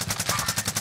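Rapid automatic gunfire in a battle royale video game, a quick run of evenly spaced shots, moderately loud and close, with a faint voice underneath.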